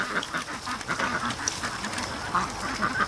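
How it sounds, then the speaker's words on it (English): Ducks, including Rouen drakes, quack continuously and close by beside a creek, several overlapping calls in a busy chorus with no pauses. "you gotta let the ducks mate a little bit"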